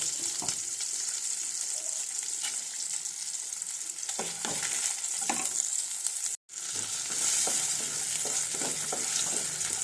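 Dried red chillies frying in oil in a pan, a steady crackling sizzle that runs throughout, with occasional stirring scrapes and a brief dropout midway.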